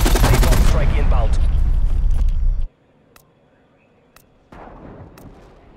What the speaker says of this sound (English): Napalm strike inbound.